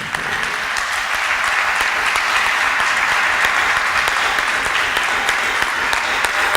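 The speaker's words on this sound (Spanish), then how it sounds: "para el cual pido también un aplauso" Sustained audience applause at an academic presentation on archaeology and ancient societies, a dense, steady wash of many hands clapping close by, holding at an even loudness from start to finish with no voice over it.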